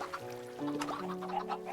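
Chickens clucking in Minecraft, a few short, quiet clucks and squawks close together over a faint background tone.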